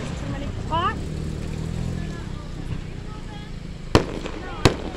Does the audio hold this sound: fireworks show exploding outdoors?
yes